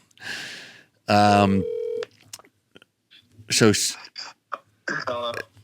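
Telephone call being placed during a tech talk show, with a burst of touch-tone dialing beeps followed by a steady ring tone and short clicks, broken up by brief voices nearby.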